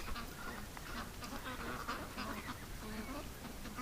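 Ducks quack and chatter in a steady, busy outdoor din, with overlapping calls throughout and no single bird standing out.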